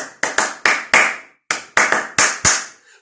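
Hand claps in a rhythmic pattern, a group of four sharp claps, a short pause, then another group of five, crisp and close with no voices, as a rhythm to be repeated in a conservatory theatre audition.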